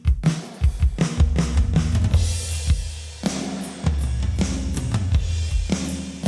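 A half-time chorus beat from a compressed Logic drum kit lands with punchy, evenly spaced hits and a slower, heavier feel, loud and alone over a sustained low backing.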